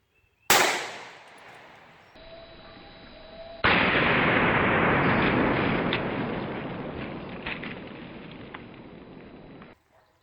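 Supersonic 300 AAC Blackout rifle shot fired at a watermelon outdoors, one sharp loud crack followed by a long ringing, rumbling decay that swells again before cutting off.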